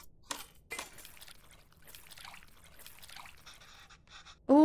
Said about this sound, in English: It looks like I have to mix the tamarind with the water to extract its essence multiple times.